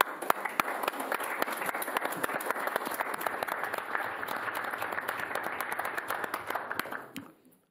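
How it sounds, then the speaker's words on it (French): Warm applause fills a municipal council meeting in Sarreguemines, steady clapping from a seated group for several seconds before fading out abruptly. "Je propose qu'on applaudisse chaudement aujourd'hui l'installation d'entreprise."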